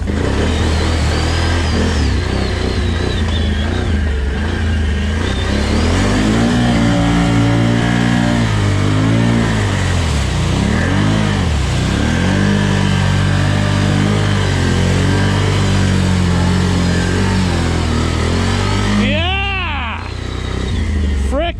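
A 2021 Can-Am Renegade 1000 XMR ATV with Visco4lok engine roars loud and close as it powers through mud, its revs rising and falling in strong surges before easing off near the end.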